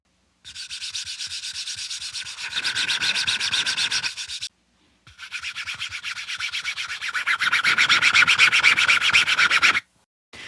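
Fingers rubbing across the textured face of a Ronbus R3 pickleball paddle, a steady close scratchy rasp in two long strokes separated by a short pause, with no voices.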